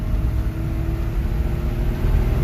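An old Nash car with a fixed O-ring accelerating hard with the pedal floored, a steady close engine drone and road rumble with a faint whine rising underneath, no voices.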